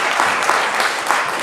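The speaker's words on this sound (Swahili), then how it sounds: "Makofi ya wahubiri wote." Steady, dense applause from a congregation honouring all the preachers at a bishop's ordination ceremony, a continuous crackle of many hands clapping close by with no pause.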